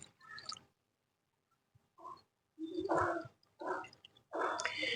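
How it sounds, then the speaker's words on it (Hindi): Water is poured into small adenium plant pots of dry soil in several separate bursts, splashing and trickling with pauses of near silence between pours. "इसके बाद इसमें हम सभी पॉट में थोड़ा थोड़ा पानी डाल देंगे।"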